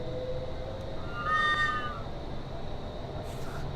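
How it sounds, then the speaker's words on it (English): Within the Train Simulator Classic game, a brief cat-like meow rises and falls once near the middle, faint against a steady low background hum, with no voices. "Sounds like a cat."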